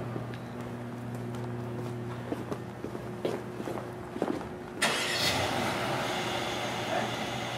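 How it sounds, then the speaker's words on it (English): The engine of a prototype test vehicle starts up. A few faint clicks and knocks come first, then the engine fires near the midpoint and settles into a steady, louder run. "Engine start."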